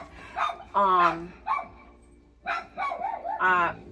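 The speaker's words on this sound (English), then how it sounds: "Sorry about the dogs." Several sharp dog barks and yips from multiple dogs on a farm in quick bursts, close by and loud, with brief pauses between them.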